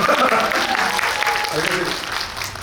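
Audience applause at a Korean film talk event for the movie Confidential Assignment 2: International, a dense, steady clatter of many hands that fills the space and tapers slightly toward the end, with some speech underneath.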